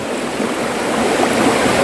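A wide river flowing over rocks, a steady, loud rushing of water close by, with no voices.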